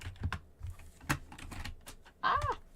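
Keys clatter on a computer keyboard in uneven, close taps and short bursts with pauses between, and a brief high squeak near the end.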